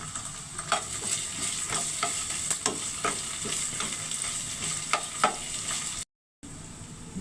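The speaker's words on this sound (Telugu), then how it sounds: "ఉల్లిపాయ ముక్కలు రంగు మారాయి అల్లం వెల్లుల్లి పేస్ట్ వేసాను" Ginger garlic paste frying with browned onion pieces in a pan, a steady close sizzle broken by regular scraping stirs, with a brief cut near the end.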